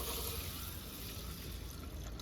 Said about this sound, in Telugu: తర్వాత ఎసురుకు నీళ్లు పోసుకుంటుందా